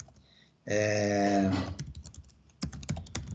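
Rapid keystrokes on a computer keyboard while entering program code, a dense burst of clicking followed by scattered separate taps, close and fairly quiet with no voices.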